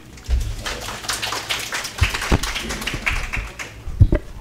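A conference audience applauding to welcome a speaker at a FreeBSD Taiwan talk: scattered, uneven hand claps and taps in a room, moderately close and lasting a few seconds. No voices.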